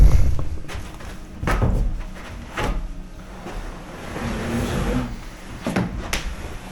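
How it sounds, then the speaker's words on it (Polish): A door being closed inside a London flat, with a few soft thuds and knocks spread across several seconds, close by in a quiet room. "Teraz zamkniemy sobie drzwi."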